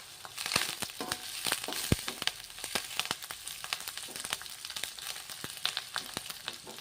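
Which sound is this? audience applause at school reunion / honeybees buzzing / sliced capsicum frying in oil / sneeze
sliced capsicum frying in oil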